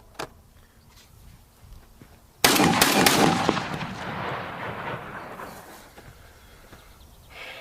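A Beretta A400 Extreme Unico or Remington Versa Max shotgun firing Challenger Super Magnum 3-inch shells: one loud nearby blast, then a long echoing rumble fading away outdoors.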